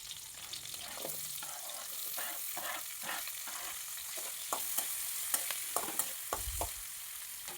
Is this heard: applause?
no